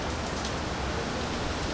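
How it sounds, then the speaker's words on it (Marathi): Dense, steady heavy rain roars on a surface without letup at a temple in Rajapur, loud and close, with no voices. "आणि पाऊस भरपूर आहे"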